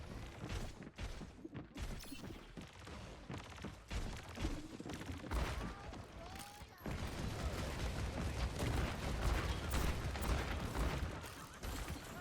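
Rapid gunfire from the hero Cassidy in the video game Overwatch, shooting a turret on the Ilios map, sounds as dense repeated shots over clanking mechanical effects and continuous game noise, with no clean pauses.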